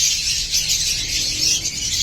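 Many caged birds chirp and twitter steadily in a breeder's aviary, a dense continuous chorus of high-pitched calls with no talking.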